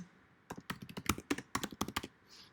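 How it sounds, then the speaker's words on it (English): Rapid keystrokes on a computer keyboard, a quick close burst of about a dozen crisp taps in uneven rhythm, with no talk. "if we type in pillowcase"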